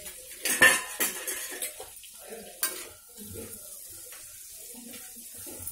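Cashews and green peas stirred in oil in a pan: sharp metal clinks and scrapes of a spoon against the pan, loudest early, then a quieter bubbling sizzle for the rest.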